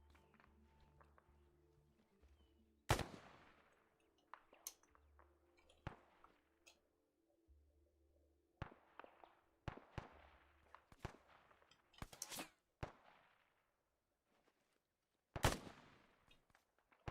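Scattered distant gunfire from AI soldiers in the video game ArmA 3, isolated sharp cracks and short bursts spaced irregularly across a quiet background, with a few louder reports standing out.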